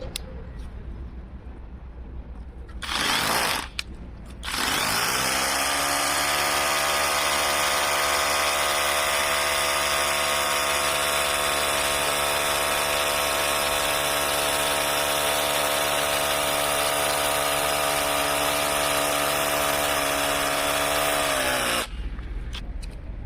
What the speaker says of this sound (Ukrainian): Бур 6 мм діаметром проти граніту.